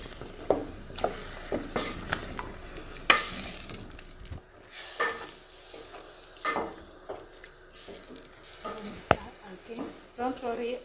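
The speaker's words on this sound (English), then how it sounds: "And let's stir again." Blended tomato being stirred in a pot for a matoke meal, with intermittent spoon scrapes and knocks against the pot over a soft sizzle, and a voice speaking between the strokes.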